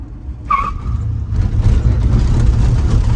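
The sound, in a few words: 1965 Ford Ranchero bump-started by dumping the clutch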